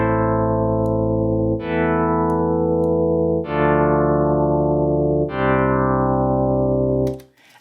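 Synth pad with sub oscillators adding fundamental tone, from the Harmless synth in FL Studio 20, plays four sustained, bright chord swells, each opening with a filter sweep, before fading out at the end.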